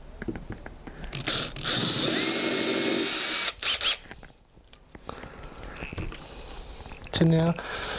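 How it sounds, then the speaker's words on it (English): A power drill boring holes into a metal server case, with loud sustained whirring bursts broken by pauses and a short ratcheting stretch near the end, while a person talks nearby. "So I'm going to just drill some holes here"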